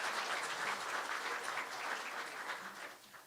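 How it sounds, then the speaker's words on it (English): Steady, dense round of applause from a theater audience at a State of the City event in Hagerstown, heard alone and tapering slightly at the end. "Let's give them a round of applause for hosting us this beautiful facility."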